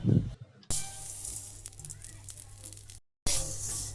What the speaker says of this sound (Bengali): চলো এবার ডালটাকে ভেজে নিতে হবে